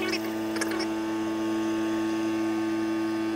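A small RV water pump runs steadily during winterizing, pushing pink antifreeze through the lines, giving a constant electric motor hum that stays even and close throughout.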